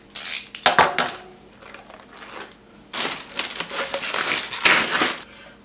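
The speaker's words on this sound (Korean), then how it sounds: "일단 한번 개봉해 보겠습니다" Unboxing of a double-sided hinoki cypress wood cutting board without knots: loud crinkling, rustling and tearing of packaging in several bursts, close up, with no talking.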